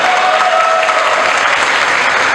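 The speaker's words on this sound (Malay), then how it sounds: "Berikan satu tepukan kepada mereka." Audience applause at a ceremony where national badminton players receive incentive awards in Penang, a dense steady clapping that stays loud and even for the whole stretch with no voices breaking through.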